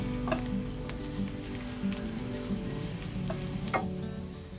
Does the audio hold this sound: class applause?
no